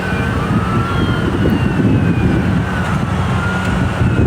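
Police car siren wailing on the far side of a highway beside a big crash in Texas, rising and falling tones steady for several seconds over loud continuous traffic rumble, no talking.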